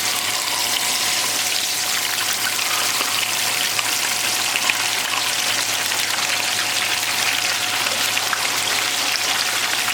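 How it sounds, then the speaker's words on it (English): White bass pieces dropped into hot grease, a loud, dense, continuous crackling sizzle that holds steady throughout, close by with no talking. "Make sure your grease is ready to go. It needs to be hot. So go ahead and dump fish."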